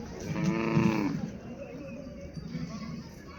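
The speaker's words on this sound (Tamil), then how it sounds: "பாருங்க, மாடு வந்து பயங்கரமாக இருக்குது." Cattle at an agricultural show, dairy cows and bulls on the grounds, with one loud nearby moo that swells and fades, followed by a softer lowing call over a background of crowd chatter and speech.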